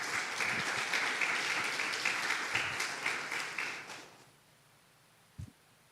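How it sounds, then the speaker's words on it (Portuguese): A church congregation applauds during a sermon, dense clapping that fades out after about four seconds, followed by near silence and a single soft knock. "Você pode aplaudir Jesus por isso?"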